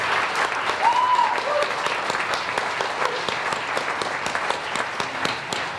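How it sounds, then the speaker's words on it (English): Applause from the audience at the Canadian Folk Music Awards in the Gateway venue, a dense wash of clapping that swells early and then continues steadily, with a faint tone briefly sounding over it. "let's give them a big round of applause to go out there"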